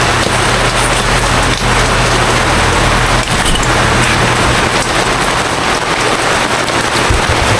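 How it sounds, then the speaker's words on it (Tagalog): Steady, dense rain pours down outside, a continuous hiss of drops striking surfaces, with a low rumble underneath and no voices. "Simula na naman ang ulan."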